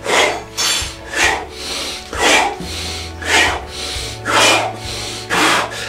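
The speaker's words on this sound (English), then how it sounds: "Exhale." Rhythmic, forceful exhalations during a dynamic breathing exercise, about seven long rasping breaths in steady succession, close and loud, with no talking.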